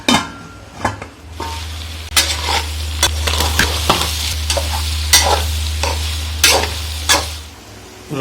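Goat tripe frying in a pan for a drumstick curry, a loud close sizzle with repeated spoon scrapes and clinks against the pan over a steady low hum, no voices.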